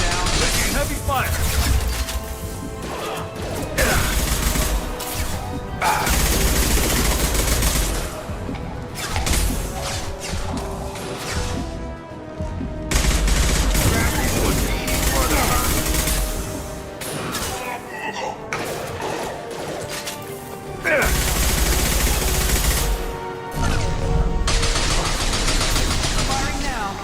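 Heavy gunfire and combat blasts in Mass Effect 2 come as loud, dense rattling bursts with whooshes and crashes, mixed with voices talking over the fighting.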